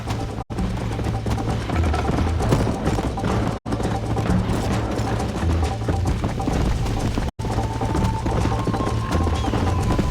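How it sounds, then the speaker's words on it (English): Steady rhythmic clip-clop of galloping horse hooves in Red Dead Redemption runs continuously over a dense game soundtrack, loud and sustained, with brief dropouts. "I think you chose the wrong horse, Miss McFarland!"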